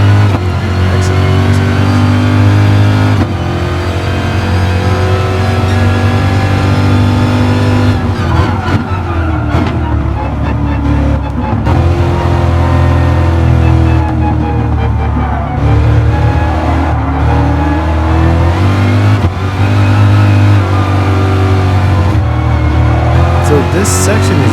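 Car engine in a racing video game, a steady loud drone with shifting revs and gear changes running continuously, with a voice commentating over it throughout.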